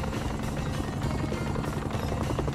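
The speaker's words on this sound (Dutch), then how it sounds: "Hallo helikopter." Helicopter in the video game Anomaly Warzone Earth, a loud, steady thudding rotor drone filling the short stretch without any talk.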